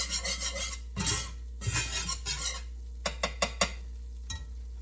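Chipped beef gravy being stirred in a pan, a spoon scraping the bottom in rasping strokes, first longer sweeps then a few short, sharp scrapes, close and fairly loud.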